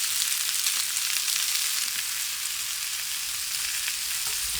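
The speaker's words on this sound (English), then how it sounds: "we're just going to stir fry this, turning it gently until everything is nice and brown" Kumara pieces stir frying in a pan make a constant bright sizzle, close and even, with occasional soft turning sounds and no voices.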